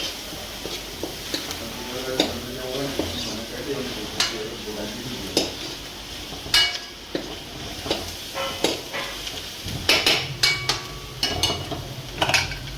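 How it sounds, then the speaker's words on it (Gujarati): Onions for a raw banana curry fry in a pan while being stirred, giving a soft sizzle broken by repeated scraping and clattering of a spoon against the metal, with someone talking over it in places. "બધાને સારી રીતે મિક્સ કરી શેકાવા દઈશું"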